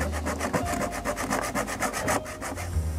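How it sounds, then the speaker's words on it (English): A hand saw cuts through a round piece of brass for a boiler top cap in a steady run of quick back-and-forth strokes, close and even, with no voices. "here I'm sawing a round piece of brass for the top cap"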